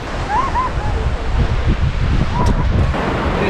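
Ocean surf rolls onto a beach at Esperance, Western Australia, with strong wind buffeting the microphone, a loud continuous wash of waves and gusts, a few faint bird calls above it.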